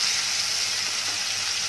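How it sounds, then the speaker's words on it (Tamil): Mustard seeds spluttering and crackling in hot oil while cooking an all-purpose base masala for curries, a steady close sizzle that continues without a break. "கடுகு பொரிய ஆரம்பிச்சிருச்சு."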